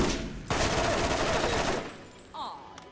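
A gun in the Borderlands video game fires a sustained automatic burst of about a second and a half, loud and close, followed by fainter game effects.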